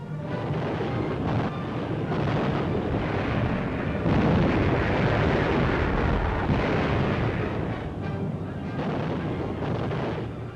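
Aerial bombs exploding on a German supply base in the desert, in 1943 wartime footage, form a loud continuous rumbling roar of blasts that keeps up without a break, with no talk over it.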